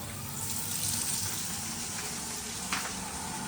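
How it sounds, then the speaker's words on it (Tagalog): Steady water running from a house faucet, with a water pump motor running, a constant hissing flow with a small splash near the end, no one talking. "Buksan yung gripo."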